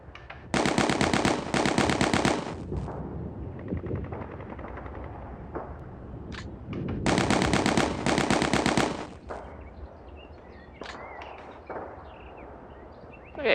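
Machine gun fire in the wargame Steel Panthers: World at War comes as two long, loud bursts of rapid automatic shots, each followed by lingering rumble and scattered smaller impacts.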